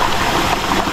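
The Chan Ta Thian forest waterfall in rainy season roars close and loud, a dense, unbroken rush of tumbling water over a brief second.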